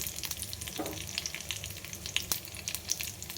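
Cumin and mustard seeds frying in hot ghee for a moong dal tempering, a dense crackling sizzle with quick popping spits, close and continuous.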